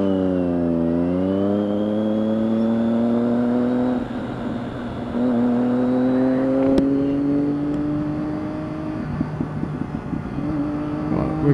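A car accelerates hard through the gears inside a tunnel, loud rising engine tones that drop at each shift and climb again, echoing off the walls without any talk.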